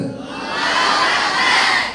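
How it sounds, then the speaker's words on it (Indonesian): A large crowd of Islamic boarding school students shouts Allahu Akbar in unison at a National Santri Day ceremony in Pamekasan. The roar is loud and close and swells, holding for about two seconds. "mari kita teriakan Allahu Akbar"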